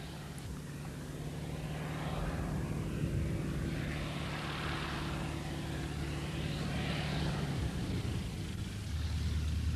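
A vintage Messerschmitt Me 108 Taifun propeller airplane at Feuerstein airfield in Franconia drones steadily and fairly faintly, its engine tone rising and easing slightly as it passes at some distance.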